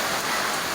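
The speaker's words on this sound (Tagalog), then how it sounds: "Ang ulan, Ito malakas naman talaga." Heavy rain pours down steadily, a dense, loud, unbroken hiss of drops striking surfaces with no pauses or voices.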